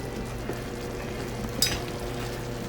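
Chicken with soy sauce, mushrooms and onions sizzles in a pan as the sauce reduces, a steady close frying hiss with a brief louder crackle partway through.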